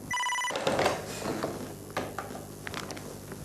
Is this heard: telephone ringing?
yes